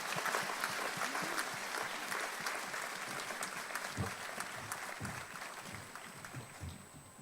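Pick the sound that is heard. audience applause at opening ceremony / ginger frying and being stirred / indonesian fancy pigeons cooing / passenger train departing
audience applause at opening ceremony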